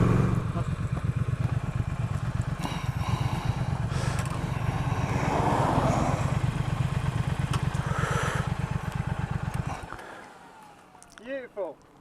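A Triumph Thruxton RS motorcycle engine thumps through the revs with a steady, pulsing throb that drops off near the end, under ongoing conversation between riders.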